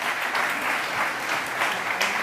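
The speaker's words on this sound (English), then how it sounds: "big round of applause for both of them" Steady, dense clapping from a conference crowd at South Summit 2023 fills the whole moment, loud and sustained without pause.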